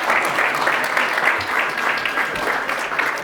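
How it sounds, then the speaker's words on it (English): An audience at a startup reverse pitch competition breaks into steady, dense applause to welcome a venture capital speaker to the stage, sustained and fairly loud for the whole stretch. "Let's applaud."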